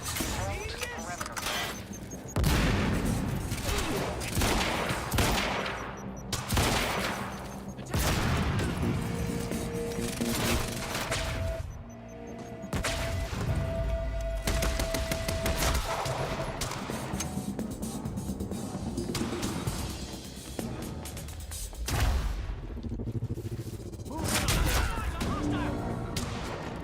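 Gunfire in the video game Quantum Break on hard difficulty, with repeated loud shots, bursts and crashing impacts spread through a tense firefight alongside music and shouting voices.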